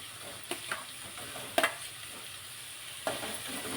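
Chopped onion frying in a pan for butter egg masala, a steady soft sizzle with a few sharp stirring scrapes and clinks, close and alone with no talk.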